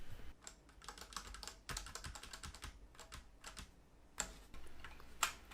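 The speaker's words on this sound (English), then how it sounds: "It's important when you're taking off the keycaps to try to pull as directly straight up as you can" Keycaps are pulled straight up off a Ducky One2 Mini Pure White keyboard with a keycap puller, producing a run of irregular light plastic clicks and snaps, with a couple of sharper pops near the end.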